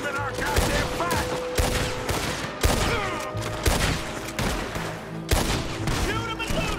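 Rapid bursts of gunfire crackle through a Red Dead Redemption 2 shootout, with repeated loud shots and volleys overlapping in dense clusters, close and sustained throughout.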